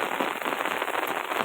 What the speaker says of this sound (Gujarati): વરસાદ ધોમ આવે છે.